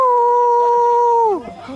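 A man imitates a long dog howl with his voice, a loud steady sustained tone that holds for over a second before bending downward and trailing off into a short breathy tail.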